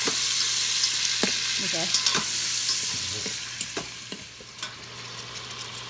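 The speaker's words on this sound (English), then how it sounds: "And you're going to put your pork stew in there and just brown it" Pork stew meat browns in bacon drippings inside an Instant Pot, giving a steady close sizzle with intermittent stirring scrapes and clicks; one brief word is spoken.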